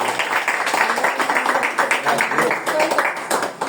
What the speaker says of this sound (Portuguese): E você diga amém e aplauda Jesus.